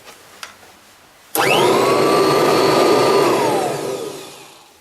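A refurbished Kirby Heritage Turbo 84 vacuum cleaner switches on abruptly after a couple of faint clicks, whining loudly and steadily close by, then starts winding down at the end.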